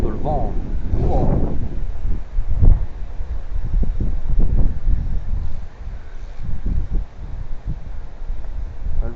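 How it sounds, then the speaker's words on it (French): Gusty wind rumbles across the microphone on a short fishing trip, rising and falling in bursts while a person talks intermittently. "Le vent il tire, enfin il souffle."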